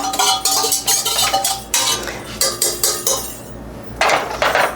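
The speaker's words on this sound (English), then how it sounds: "Now I'm going to stir this up a little bit because I don't want any lumps in the bottom." A utensil stirring keto bread batter in a bowl, a rapid series of loud close clinks and scrapes against the bowl in short repeated bursts.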